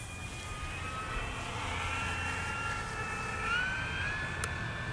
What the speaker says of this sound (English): Full flaps, coming by nice and slow. It is a Mustang, guys.